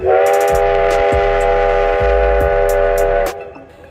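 A loud, steady steam whistle blares for about three seconds over rhythmic low rumbling and clanking of a passing train, then cuts off.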